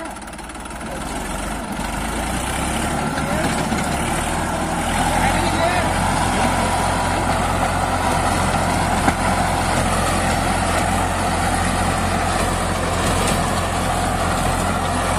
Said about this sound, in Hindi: दोस्तों ट्रैक्टर की आवाज बिल्कुल नहीं बद रही, 4200 स्क्वायर का ट्रैक्टर है, बेहतरीन चल रहा रोटावेटर भी एकदम।